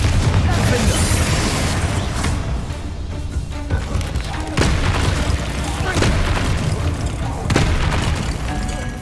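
Booming spell blasts from Confringo casting in Hogwarts Legacy on Xbox Series X, a steady run of heavy explosions and impacts layered over continuous combat noise.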